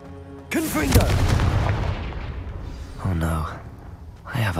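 An Incendio fire spell cast in Hogwarts Legacy erupts in a loud, sudden whooshing blast that rumbles and fades, followed by two shorter bursts, with in-game voices and effects mixed in.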